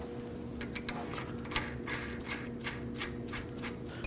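A ratchet spins a nut onto the front left CV axle of a 2016-2020 Kia Sorento, giving repeated quick clicking bursts at close range over a steady low mechanical hum, with no talking.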